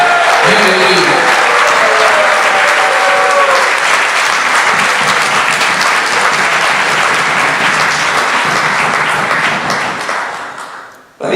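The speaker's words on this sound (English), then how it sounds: "give them the kind of rousing applause that we do here in Texas" Rousing applause from a large audience at a Houston chapter launch event, dense clapping with shouts and cheers, loud and sustained for about ten seconds before fading out at the end.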